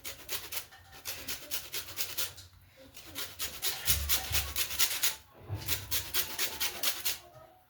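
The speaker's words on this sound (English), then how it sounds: "Next, I'm going to grate in my lemon to get the lemon zest." A lemon grated for zest while making Kenyan mandazi: steady rhythmic rasping strokes, close and fairly quiet, repeating in quick regular runs with brief pauses.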